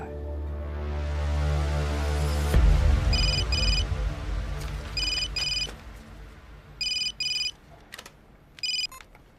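A mobile phone ringtone sounds in a tense drama scene, repeated electronic ring bursts following a deep booming hit, with no talk.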